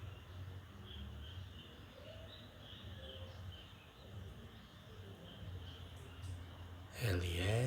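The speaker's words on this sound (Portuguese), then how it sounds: "Ouça o canto dos pássaros no meio da natureza." Birds sing and call out in nature, faint repeated chirps and cooing over a low ambient hum, with a louder swooping burst near the end.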